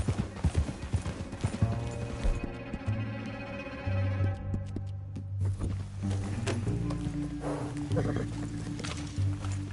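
Horse hooves clip-clop in a steady walking rhythm, mixed with a low rumble and other background activity.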